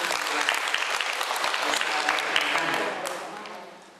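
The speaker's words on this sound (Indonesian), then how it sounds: "Tepuk tangan untuk kita semua." An indoor audience of women at a training session in Malang, East Java, claps in dense, sustained applause that fades toward the end.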